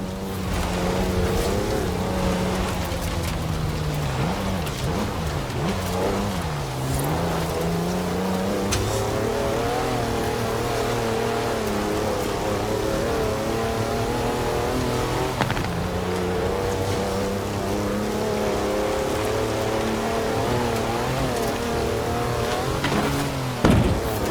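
A turbo tractor engine drones steadily in Forza Horizon 4, a loud continuous roar with rising and falling pitch as it accelerates and shifts, heard close and alone.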